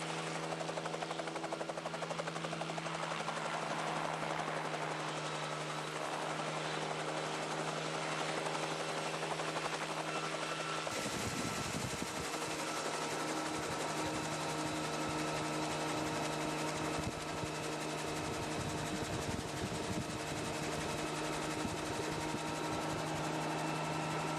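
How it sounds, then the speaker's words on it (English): A helicopter's loud, steady rotor and engine drone runs throughout, heard from close inside or nearby at a landing strip outside Birdsville, Queensland, shifting slightly in tone partway through. "the chance to take a ride on a helicopter that turned up at the local landing strip"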